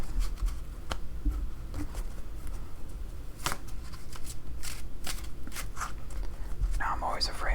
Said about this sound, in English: Now I'm always afraid of not shuffling thoroughly enough when I have 2 decks